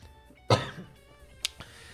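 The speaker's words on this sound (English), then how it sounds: "I'm coughing a lot right now. I have a dry throat." A person with a dry throat gives one sharp, loud cough, then a couple of smaller throat-clearing bursts, close to the microphone with no speech.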